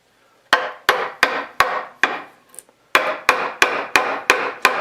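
A wooden square mallet strikes a wide chisel driven into wood: about ten sharp, loud, close knocks at a steady rhythm, with a brief pause midway and each hit ringing out and fading before the next.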